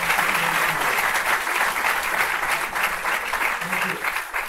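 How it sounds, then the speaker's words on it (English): Sustained applause from an audience at a student-organized pitch presentation event, a continuous wash of many hands clapping at even volume throughout. "I request you to kindly clap for the MIB team"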